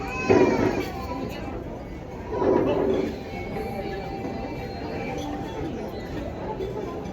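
Cats being called over for feeding meow in two short, fairly loud bursts near the start and again midway, set against a constant background rumble.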